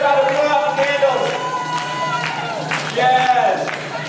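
Crowd clapping at a bat mitzvah cake cutting, steady rhythmic applause from a roomful of guests under an amplified voice and music.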